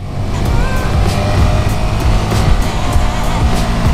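A Honda Grom motorcycle is ridden in a stunt lot, its small engine giving a steady, loud droning roar close up with heavy wind rumble and no pauses.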